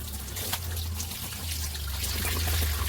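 Water trickles and splashes steadily while someone washes their face, a continuous close wash of running water over a low hum.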